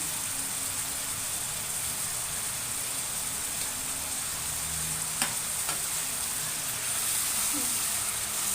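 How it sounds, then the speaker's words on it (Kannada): Dill and coriander leaves frying in a little oil in a home kitchen pan, a steady soft sizzle and hiss throughout with occasional stirring scrapes, fairly close. "ಸ್ವಲ್ಪ ಎಣ್ಣೆ ಮೇಲೆ ಸಬ್ಬಕ್ಕೆ ಸೊಪ್ಪು ಕೊತ್ತಂಬರಿ ತೊಗೊಂಡಿದ್ದೀನಿ ಇಲ್ಲಿ ಸಬ್ಬಕ್ಕಿ ಸೊಪ್ಪು ಹಾಕ್ತೀನಿ"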